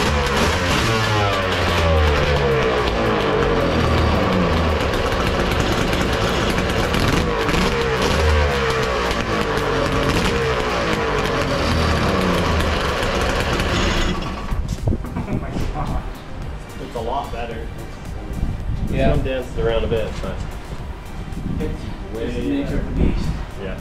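A three-cylinder two-stroke mini jet boat engine with triple pipes runs steadily and loudly for about fourteen seconds, then cuts off, leaving quieter background noise with some talking.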